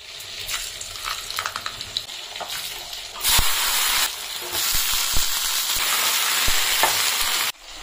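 Fish frying in oil in a wok on a home stove, a loud, close, continuous sizzle with intermittent stirring clatters and a surge in intensity partway through.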